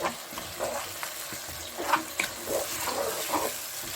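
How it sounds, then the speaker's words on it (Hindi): Mashed eggplant frying in spices in a pan sizzles softly and steadily, with scraping stirs and light clinks from the spoon at irregular intervals. "ये 3 से 4 मिनट भूनेंगे इसको अच्छी तरह मसाले के अंदर।"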